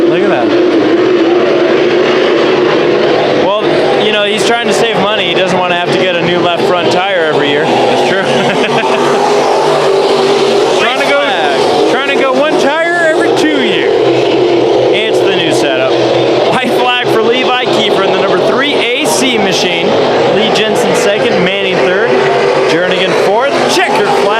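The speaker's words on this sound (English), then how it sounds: "here he is out front in another heat race with 2 laps to go" Race cars in a heat race at Bakersfield Speedway roar loudly and continuously as they lap the track, with engines surging and passing throughout while a commentator talks over the noise.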